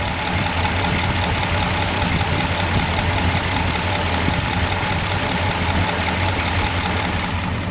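A red 1963 Studebaker Gran Turismo GT Hawk with its R2 engine idling, a loud, smooth, continuous rumble held steady throughout at close range.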